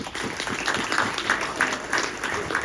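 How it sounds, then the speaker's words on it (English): Applause from an audience at a press conference introducing a new head volleyball coach, a steady patter of clapping that fills the room at moderate volume with a faint voice underneath. "so that deserves a round of applause"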